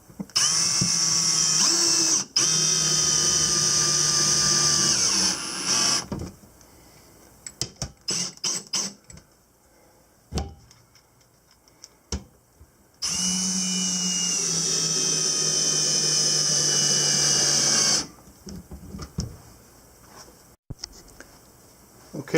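Power drill driving the bottom screws of a full-motion TV wall mount (MD2380) into the wall, two long loud whirring runs separated by a quieter stretch with brief bursts and clicks.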